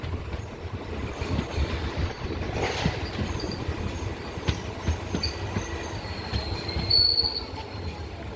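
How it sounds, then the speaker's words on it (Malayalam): A passenger train pulls into Vayalar railway station in Kerala, with steady rumble of rolling wagons, wheel squeal and a brief high screech near the end, heard up close from on board. "വയലാർ റെയിൽവേ സ്റ്റേഷനിലേക്ക് ട്രെയിൻ എത്തിയിരിക്കുകയാണ്."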